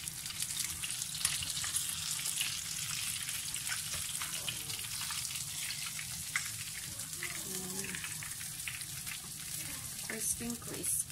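Chicken pieces deep-frying in hot oil for homemade KFC-style fried chicken, a steady crackling sizzle with bursts of spattering throughout, close and fairly loud.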